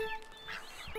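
A voice imitates Donald Duck's quack, giving a short, raspy, nasal squawk during a Wii Sports Resort canoeing game, heard close and fairly quiet over faint background game sound.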